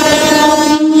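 A train sounds its loud, sustained horn at Jhargram railway station, a single steady blast heard up close for the whole moment.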